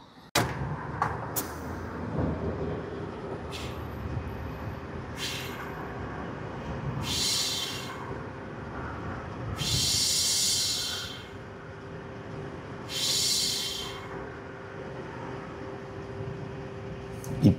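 Gas station air pump inflating a car tire, several bursts of hissing air a second or two long, separated by pauses and the low hum of the surroundings.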